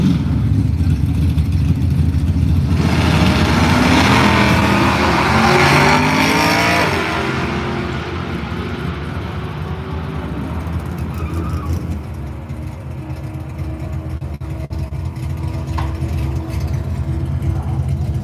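Race cars at Firebird Raceway in Boise, Idaho: loud engines roar and rev up close, then the sound drops to a steadier, more distant drone as the cars pull away, with no speech.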